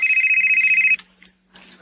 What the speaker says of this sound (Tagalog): Nanawag, Jude.